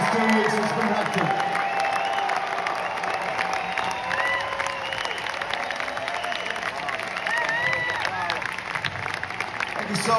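Concert crowd applauding and cheering at a show, a steady wash of clapping and whoops that holds at the same level throughout, with scattered voices shouting within it.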